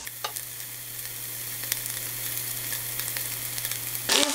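Eggplant stir-fries in a covered pan with a steady, close sizzle and a faint hum, ending in a short clatter as the lid is lifted.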